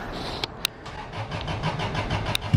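A Toyota AE86 fitted with a BEAMS engine starts up: a few sharp clicks, then a low, uneven rumble as the motor catches and idles close by, ending on a louder thump.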